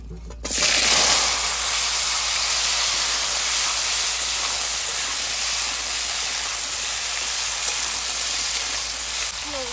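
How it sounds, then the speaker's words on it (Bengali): Young jackfruit pieces dropped into hot oil left from frying potatoes, a loud, dense, steady hiss of sizzling that starts suddenly and holds close and even throughout, no talking. "আলু ভাজার তেলে এঁচড়গুলো ভেজে নেবো।"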